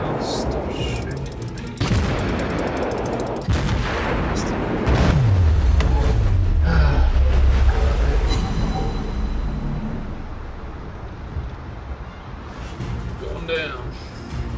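Gunfire from World of Warships naval combat hitting the player's ship: bursts of shots and booms, with a rumbling roar building midway, heard loud with a voice talking over the game.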